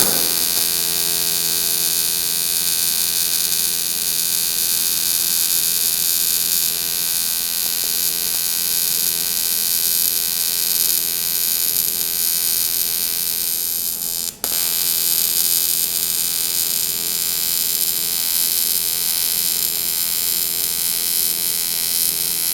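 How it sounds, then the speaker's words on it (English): A TIG welder arc-welds an aluminium car body, giving a steady, loud electric buzzing hum that runs unbroken apart from one brief dropout, with no talking. "that's a basic TIG weld"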